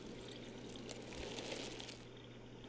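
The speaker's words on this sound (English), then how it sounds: "first mix two parts water with one part bleach" Water and household bleach being poured together to mix a decontamination solution, a steady rushing pour that runs continuously and fairly quietly, slightly easing toward the end, with no talk over it.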